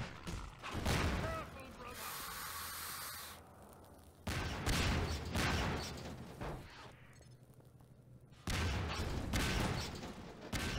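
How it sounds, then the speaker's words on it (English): Explosive barrels blowing up during a Half-Life 2 fight, heavy booming blasts in bursts with loud gunfire, mixed with a voice talking over the action. "be careful, because those barrels will explode"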